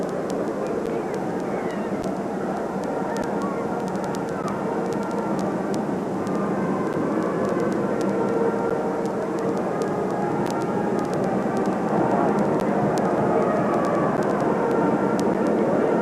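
A Lockheed C-141 military transport aircraft arriving at Loring Air Force Base, a steady distant jet engine roar that holds evenly and grows slightly louder over the stretch, with no speech heard.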